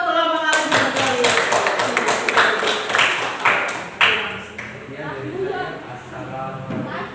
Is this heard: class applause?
yes